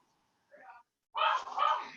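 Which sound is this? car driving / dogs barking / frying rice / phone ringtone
dogs barking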